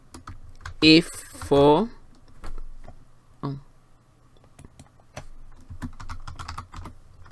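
Someone types on a computer keyboard nearby, with scattered, crisp key clicks and taps. A voice speaks briefly early on.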